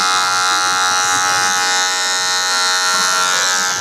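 Electric hair clippers buzz steadily and close up while cutting a low skin fade at a barbershop, a dense continuous motor whine with no talking.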